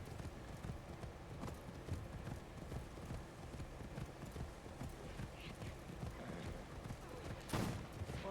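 Horse hooves clip-clop steadily along a path in Assassin's Creed Shadows, a brisk, even rhythm running throughout with someone talking over it and a sharp game sound near the end.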